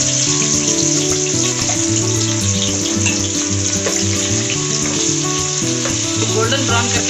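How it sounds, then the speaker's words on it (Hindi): Onions fry loudly in a pan with a dense, unbroken crackling sizzle throughout, close and constant, with tonal background music running beneath it. "अब ऑनियन फ्राई करेंगे।"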